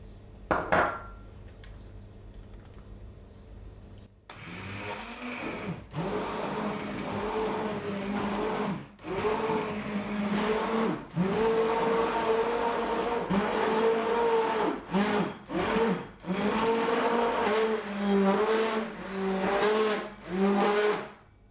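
A hand blender purées cooked lentil soup vegetables in a pot, a loud whirring motor that runs in long bursts with brief pauses and pitch shifts as it churns through the soup.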